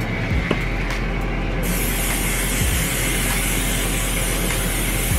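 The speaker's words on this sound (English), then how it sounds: "I'm just gonna spray every piece with my canola oil" An aerosol can sprays canola oil over chicken pieces in a few hissing bursts, the longest one running steadily from partway through to the end, close and loud.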